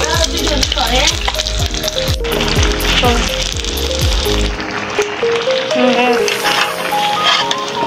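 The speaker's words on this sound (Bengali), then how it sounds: "এই যে 3টা ডিম আমি ভাজ করছি" Three eggs fry together in a pan, giving a loud, close, crackling sizzle over a background of tonal, voice-like sounds.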